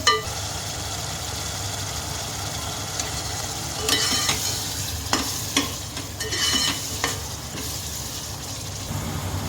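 Paneer biryani masala with yogurt sizzling and frying in a pot on a stove over medium flame, a steady low bubbling hiss broken by several brief clattering stirs of a spoon in the middle stretch.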